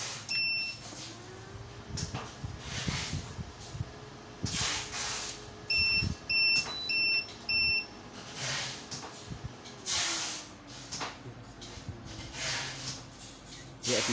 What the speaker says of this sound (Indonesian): Untuk yang pertama kali akan saya nyalakan inverternya terlebih dahulu.